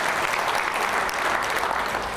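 A dinner audience at a city's State of the City event breaks into dense, continuous applause, loud and sustained over the whole stretch.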